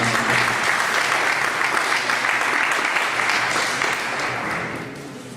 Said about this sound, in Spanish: Brindemos un fuerte y merecido aplauso